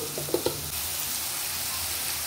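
Onions with salt frying in a pan over a full gas flame: a steady, close hiss with a few stirring clacks near the start.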